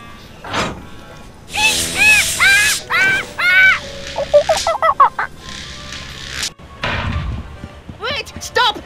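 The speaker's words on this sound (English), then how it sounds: "Slovenly parrots!" Parrots squawk in the Tales of Monkey Island video game with loud, harsh, rapid cries in several clusters, mixed with thumps and a voice talking.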